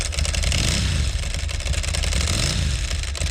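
A Ducati 998 motorcycle engine revs hard and loud up close, a rough, throbbing twin-cylinder roar with mechanical clatter that rises and falls in steady pulses without a break.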